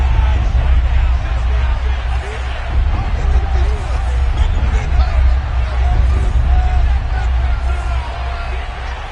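Steady crowd roar and murmur from a stadium in the football video game Madden, a constant loud wash of noise from start to finish.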